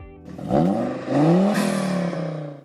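Engine of a 2024 Rolls-Royce Cullinan with a 6.75-litre twin-turbo V12 and eight-speed automatic, revving up in two rising surges with a smooth, strong whir that holds steady afterward, heard alone.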